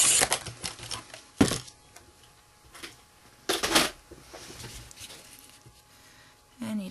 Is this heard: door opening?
no